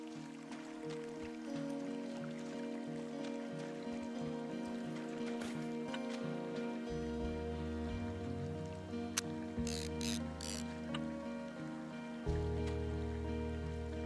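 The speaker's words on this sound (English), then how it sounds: "It's a really nice waterfall down here." A waterfall and stream in the game Firewatch give off a steady, soft rush of running water, heard alongside sustained tonal music with a few brief bright splashes near the end.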